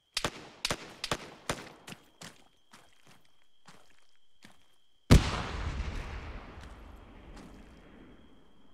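A frag grenade blast in a night-time video game firefight: sharp gunshots crack in a rapid, uneven series, then a loud explosion booms and trails off into a long rumbling decay.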